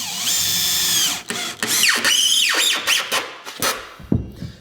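A power drill whines as it drives screws into wooden floor sheathing, with several close, loud bursts that rise and fall in pitch, separated by short pauses.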